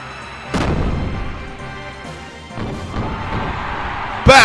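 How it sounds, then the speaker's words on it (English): Gunfire in the Xenogears game: a few heavy, booming shots spaced about two seconds apart, with a sharp crash at the end, set over a steady layer of game music. "Watch as we shoot our guns."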